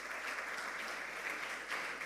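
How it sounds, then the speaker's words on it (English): A steady round of audience applause for school quiz contestants at an inter-school quiz contest, dense even clapping lasting a couple of seconds without talk. "A round of applause for them."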